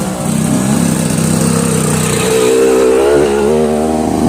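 A motocross motorcycle engine runs loud and close on a steep, rough mountain trail, with a buzzing drone whose pitch climbs partway through.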